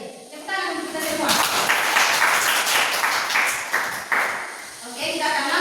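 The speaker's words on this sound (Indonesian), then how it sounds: "Tepuk tangan untuk kita semua." Applause in a classroom, a burst of clapping from students that swells and holds steady for several seconds, with a voice speaking over it at the start.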